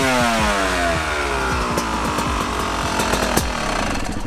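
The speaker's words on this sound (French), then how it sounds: "ce magnifique 250 YZ Yamaha 2 temps" A Yamaha YZ 250 two-stroke dirt bike fires up and idles with a raspy, buzzing, rapidly pulsing note, close and steady, with a few sharp throttle blips near the end.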